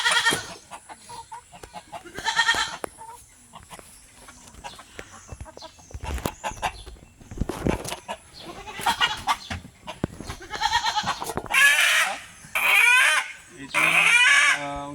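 Chickens on a small poultry farm, with scattered clucks and sharper squawking bursts that grow louder and more frequent toward the end, mixed with rustling and other farm noise.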